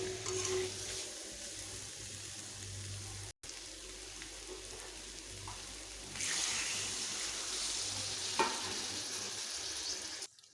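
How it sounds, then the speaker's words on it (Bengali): Water poured into a papaya and potato curry frying in a pan sets off a loud, rising sizzle and hiss that swells near the end, with faint stirring underneath; no voices. "এটি আমার কষানো হয়ে গেছে এবার আমি এখানে জল অ্যাড করব"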